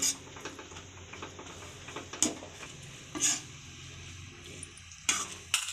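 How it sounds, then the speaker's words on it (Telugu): A sticky lentil sweet mixture, paakam pappu, is stirred in a pan, with a faint low sizzle beneath a few sharper scraping clinks of the spoon against the pan. "కలేద్దాం ఒక రెండు సెకండ్ బాగా కలుద్దాం"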